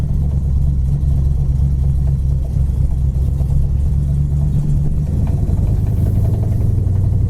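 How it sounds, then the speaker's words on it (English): A 1968 Dodge Coronet 500 with a 440 big-block V8 runs steadily nearby, its deep, loud idle rumbling on throughout with slight rises in engine note. "This 440 runs awesome"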